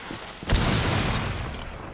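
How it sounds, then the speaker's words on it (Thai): A sudden, loud explosion in the video game Rainbow Six Siege bursts in about halfway through, followed by a sustained rumbling roar that slowly fades without fully dying away. "ใครวางระเบิดวะ"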